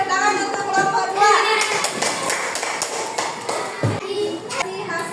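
Schoolchildren clap in a classroom for a group's craft project, a pencil holder made from used plastic bottles, scattered taps and claps under lively children's voices and shouting.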